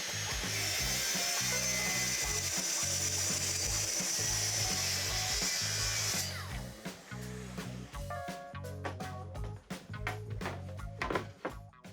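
Power saw with a 48-tooth blade ripping wooden boards, with a loud, steady whining cut for about six seconds, then stops and is followed by clattering handling and knocks of wood.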